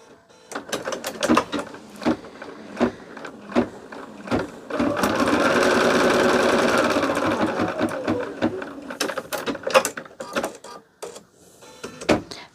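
An embroidery machine stitches a line on fabric, its rapid mechanical whir running steadily up close and broken by short bursts and clicks of the needle mechanism, with no voices.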